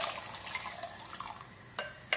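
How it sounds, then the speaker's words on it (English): A cup of water is poured into a pot of vegan coconut curry chickpeas with coconut milk, giving soft, faint splashing and a few sharper drips, with no talking. "Also going to add a cup of water guys."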